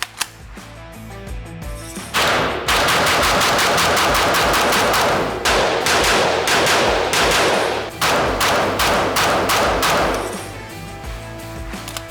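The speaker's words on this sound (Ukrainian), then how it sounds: "Коли ведеш темпову стрільбу, ловити другий постріл набагато складніше" A Kalashnikov AK-47 rifle fires rapid shots in long, dense strings with brief pauses between them. The reports are loud and close, and no one speaks.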